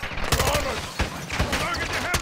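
Automatic gunfire rattles in a Call of Duty: Modern Warfare II campaign firefight, with rapid, dense bursts of shots repeating loudly and close for the whole stretch.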